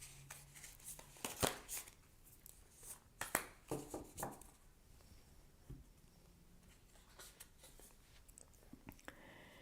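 Oracle cards being shuffled and handled, giving soft papery riffles and taps in a few bursts, fairly faint and close, with no talk.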